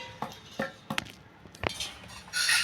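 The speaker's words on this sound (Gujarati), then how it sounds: "હલાવી નાખવાનો છે।" Vegetable masala of onion, garlic, tomato, coriander, ginger and chili is stirred in a pan, giving sharp metal clinks and scrapes at an uneven pace, ending in a brighter rattling scrape.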